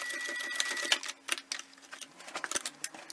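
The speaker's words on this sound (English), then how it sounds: "we're gonna sew it with the sewing machine" A sewing machine stitching a bag hem runs in short, uneven bursts of rapid stitching, stopping and starting several times, close up with no talking.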